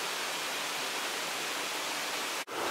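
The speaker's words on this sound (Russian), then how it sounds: "Вот водопад." Kirindi Ella waterfall near Kuttapitiya in Sri Lanka, a steady broadband rush of falling water, constant and moderately loud with no voices, ending in a brief dropout near the end.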